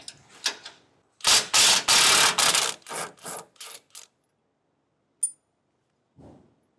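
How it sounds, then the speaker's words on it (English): A nut and split washer come off a cross beam bolt on a 2016 Ram 3500: a few ratcheting and scraping metal bursts close by, then scattered clinks and quiet. "We'll remove the nut and the split washer at least."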